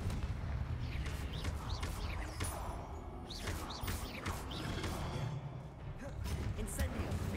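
Confringo explosive spell in Hogwarts Legacy, blasts and whooshing spell effects repeating amid combat noise, with a voice talking over them.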